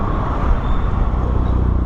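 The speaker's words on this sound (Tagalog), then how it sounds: "Traffic." Steady, loud road traffic rumbles continuously on a road from Dasma to Bacoor in Cavite, a dense wash of engines with no distinct pass-bys.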